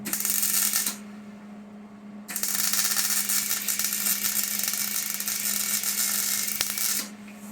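A stick welder crackles and buzzes in bursts while welding a Cub Cadet 2166 lawn tractor muffler with long stick-out, the close arc noise stopping briefly then resuming steadily for several seconds.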